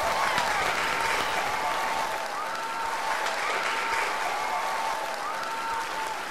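A studio audience on a Vietnamese TV game show breaks into sustained, dense applause, with a faint steady musical tone running beneath the clapping.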